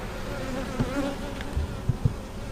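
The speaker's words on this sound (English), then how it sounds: "So they're beginning to get agitated." Agitated honey bees buzz steadily and close during robbing season, a dense droning hum with a few soft knocks and bumps near the end.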